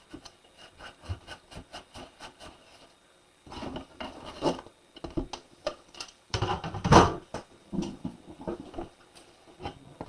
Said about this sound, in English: So I am going to just burnish on the inside.